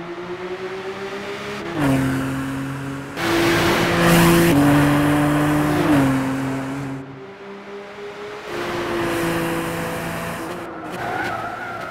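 A race car in a racing video game roars loudly, its engine pitch stepping up through gear changes as it accelerates, with brief tire squeal between shifts and no voices.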